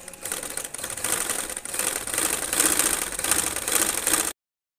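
A sewing machine stitches a trouser hem with a fast, steady mechanical rattle that builds slightly in loudness before stopping abruptly.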